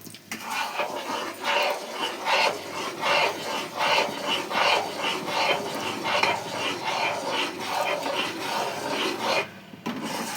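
A spoon or spatula stirring a thick Mysore pak mixture of gram flour and ghee in a pan, a steady rhythmic scraping and rasping, close and continuous, with strokes repeating about twice per second.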